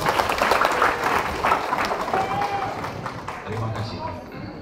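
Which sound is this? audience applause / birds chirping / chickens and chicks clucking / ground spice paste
audience applause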